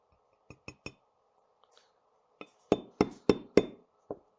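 Light metal taps on a small pivot pin being driven into the extractor of a Smith & Wesson M&P M2.0 pistol slide: a few sparse clicks, then a tight run of sharper, louder taps, close and alone.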